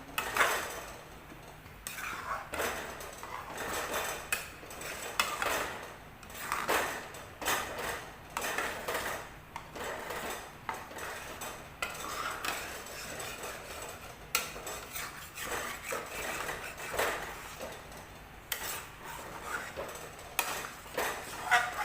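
A spatula scrapes and stirs thick mango chutney in a kadai on a gas flame, with steady metallic scraping and clinking strokes in an irregular rhythm close by, and no talking.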